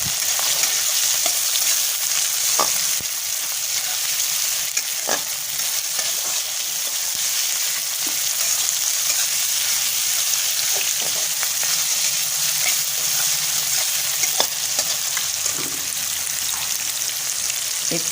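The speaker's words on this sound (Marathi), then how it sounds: "परतून घ्यायचं चांगला पाहिजे, सगळं मऊ होईपर्यंत परतून घ्यायचं" Chillies and crushed garlic sauté in a hot pan for cooking harabhara bhat, a continuous close sizzle broken by scattered clicks and scrapes of stirring, with no talking.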